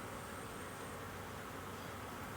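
Honeybees from a freshly disturbed hive, opened while queen cells are cut out for splits, give a steady, dense, faint drone that runs unbroken and close around the beekeeper, with no talk over it.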